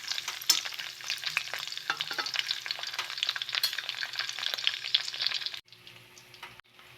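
Dilis (anchovies) frying in plenty of oil, a dense steady sizzle with crackling pops and stirring, loud and close for most of the clip before dropping abruptly to a quieter simmer near the end.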